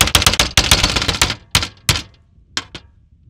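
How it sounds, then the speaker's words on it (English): A lever-action gun's magazine tube dovetail is struck in a rapid series of sharp metallic knocks, then a few spaced, isolated whacks trailing off, close and loud with no talking. "So we're just gonna give it a smack."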